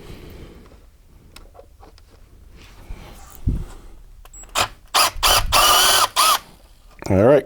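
Screws being unscrewed from the case of a Tyco Olympus music server, quiet fiddling followed by several loud close whirring bursts of a power driver, with a voice speaking faintly at the start.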